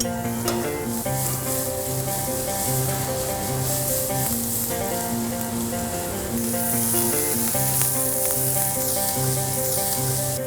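Garlic sizzling in butter in a pan, a steady, close frying hiss that stays loud throughout with slight stirring noise, while music plays underneath.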